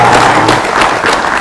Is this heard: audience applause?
yes